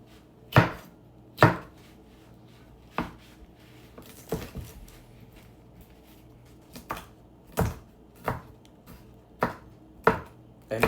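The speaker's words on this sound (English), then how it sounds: "I'm going to put 1/2 of a jalapeno in there, roughly chopped" A knife roughly chops half a jalapeno on a cutting board, about a dozen crisp, close knocks spaced irregularly and unhurried, with no talk.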